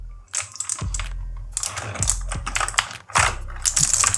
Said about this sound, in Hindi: एक साथ में की प्रेस करूँगा,